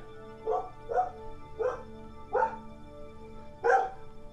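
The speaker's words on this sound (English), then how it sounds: "Dog's barking at a distant siren." A dog barks five times at a fairly even pace at a distant siren, each bark clear and moderately close, with a faint steady hum in the background.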